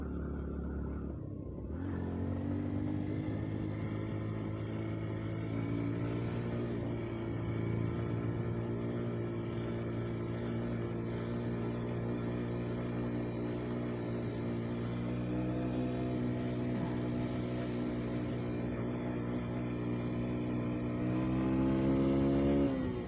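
A motorcycle engine labours steadily uphill on a diversion road near a nature park between Tboli and General Santos, its loud, close drone holding for over twenty seconds and rising in pitch near the end, with no talking.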